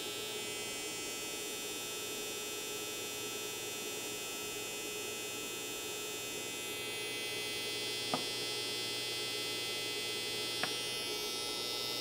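TPOB XO or Babyliss FXone hair clipper motor running at high speed, a steady close electric buzz and hum held throughout with a couple of faint clicks.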